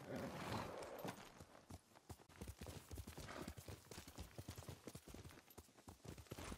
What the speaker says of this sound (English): Which means horse riding.